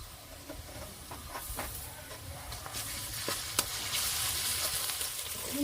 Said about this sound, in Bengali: পেঁয়াজটা হালকা করে ভেজে নিয়েছি এবারে আদা রসুন দিয়ে দেব বাটা আদা রসুন দিয়ে দিচ্ছি